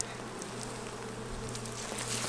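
Honey bees swarm and buzz at an open top hive box, a dense, loud, continuous drone close by with a few individual bees whining past.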